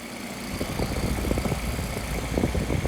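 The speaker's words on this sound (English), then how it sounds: "I love how that compressor's already chattering" A two-year-old 2009 Frigidaire 12,000 BTU window air conditioner starts up, its compressor running with a rough, rapid chattering rattle over a steady low hum, close and fairly loud.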